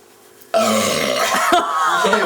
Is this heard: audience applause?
no